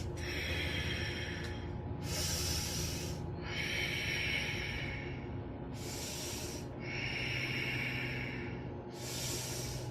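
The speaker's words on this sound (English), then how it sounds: "breathing in and out the nose" Slow, deliberate breaths drawn in and pushed out through the nose during a chair yoga stretch, alternating hissing inhales and exhales in a steady rhythm, close and clear over a low background hum.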